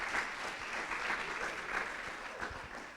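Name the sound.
audience applause for speakers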